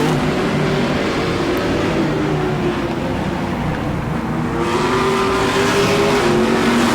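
An A-Mod race car engine roars loudly and steadily at Auburndale, its pitch climbing as it accelerates hard, with a slight shift in tone near the end.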